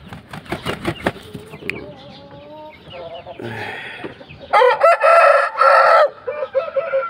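An Aseel rooster, 10 months old, crows loudly and close by, a long strained call near the end, with clucking, wing flaps and some background voices earlier.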